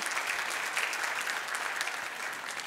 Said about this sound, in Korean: 우리 찬양팀, 반주팀, 이분들의 수고에 격려의 박수 우리 또 보내겠습니다.